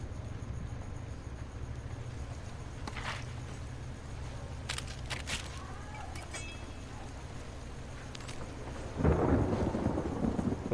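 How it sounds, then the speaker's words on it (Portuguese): Thunder rolls through a rainy night in the video game The Last of Us Part II, a low steady rumble with a few sharp crackles, swelling into a louder, nearer boom toward the end. "O barulho real dos trovões"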